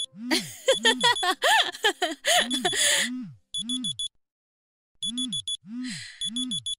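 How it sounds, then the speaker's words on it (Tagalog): A cellphone alarm set as a reminder rings in a rapid, loud electronic beep-and-chirp pattern, repeating in short bursts with a brief pause partway through. "Nag-alarm lang po yung cellphone ko."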